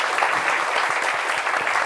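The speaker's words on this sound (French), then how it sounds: "Applaudissements pour vous-même, chers amis du public." A TV studio audience claps steadily and fairly loudly, a dense, even wash of hand claps with no break.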